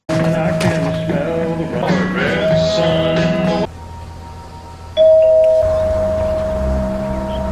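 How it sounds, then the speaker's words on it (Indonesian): A doorbell rings at a house, a chime of sustained tones over background music and other sound, moderately loud throughout. "memancing Jack keluar dengan membunyikan bel"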